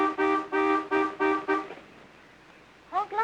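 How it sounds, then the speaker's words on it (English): Four loud car horn honks in a quick even rhythm, a pause of quiet, then a fifth honk starting at the end. "Honk louder, honey. She didn't hear you."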